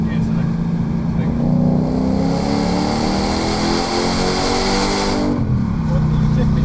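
A Lexus LS400 engine on the Brands Hatch Indy circuit holds a loud, sustained rev that drops away near the end as gears are selected, heard from inside the car with people talking over it.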